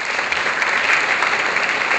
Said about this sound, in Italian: avevo il piacere di fare un grossissimo applauso per i commissari di musica al museo